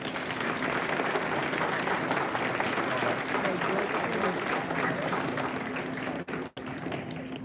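An audience in a school board meeting room applauds for students being recognized as school board scholars, a dense, sustained roar of clapping that stays steady for several seconds before briefly dropping out near the end.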